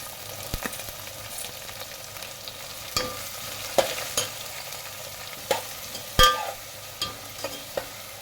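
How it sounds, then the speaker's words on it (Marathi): Onion and crushed garlic fry in oil with a low, steady sizzle. Sharp spoon clinks and scrapes against the pan come at irregular intervals, close by, with no talk. "आता आपला कांदा भाजत आला"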